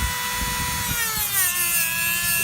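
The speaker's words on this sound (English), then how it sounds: "Use the little Dremel to" A small Dremel rotary tool cleans out the bore of a part from a 2012 Buick ABS repair, producing a close, high whining buzz whose pitch drifts down and up as it grinds steadily.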